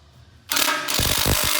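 A ratchet tightens the exhaust clamps on a Jeep Wrangler JL while a Corsa 2.5-inch axle-back exhaust is being installed, first a sharp metallic burst and then a quick run of close clicks.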